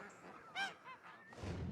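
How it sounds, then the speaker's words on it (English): Geese honk a few times in short, nasal calls, fairly faint, with some low background rumble toward the end. "Geese were farmed."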